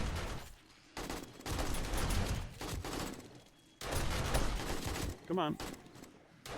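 Automatic M4 rifle fire in the survival game 7 Days to Die during a horde night, heard as bursts of rapid shots with short pauses in between and someone talking briefly over them.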